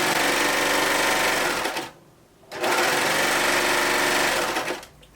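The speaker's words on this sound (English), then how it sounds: "when I sew, I make sure that my elastic's encased in my seam, in my serger seam." A serger sewing machine stitches elastic into a seam in a loud, fast, continuous whir that stops briefly and then resumes at full speed. It is close up and has no talking over it.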